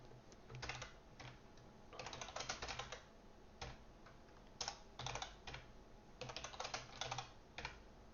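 Fast typing on a computer keyboard during a Flutter coding lesson, quiet bursts of rapid key clicks separated by short pauses, close and faint, with no talking.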